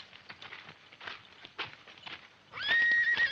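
A horse whinnies loudly near the end, after a stretch of hoofbeats and rustling in a French-dubbed 1964 Western.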